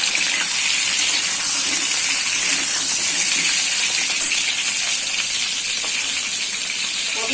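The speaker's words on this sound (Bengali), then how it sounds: "আমি কড়াইতে তেল দিয়ে পটলগুলোকে দিয়ে দিলাম।" Pointed gourd (potol) frying in hot oil in a wok gives a loud, steady, close sizzle and hiss that holds unbroken throughout with no talk.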